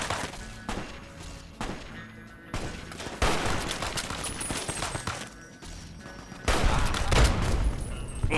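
A firefight in Fallout: New Vegas crackles with repeated volleys of gunshots and heavy bursts, loud and uneven, swelling and easing over several seconds with no talk.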